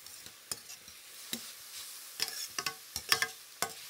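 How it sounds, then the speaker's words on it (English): Bacon renders in a pan with a soft, steady sizzle, broken by scattered sharp clicks and scrapes of stirring, close and fairly quiet throughout. "So we're starting off with some bacon, and we're just going to get that bacon to render down just a tiny little bit."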